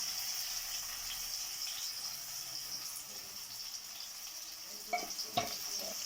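Pumpkin curry frying in a pan as turmeric is added, a steady soft hiss with a few small clatters near the end.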